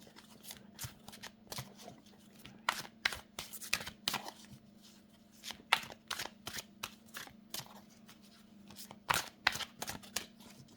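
Chakra oracle cards are shuffled close by in quick, papery riffling bursts that repeat in uneven clusters, over a faint steady hum in a quiet room.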